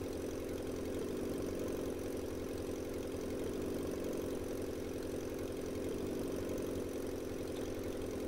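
A tractor engine in the video game Farming Simulator 19 drones steadily at a low idle-like rumble, loud and continuous throughout with no talking.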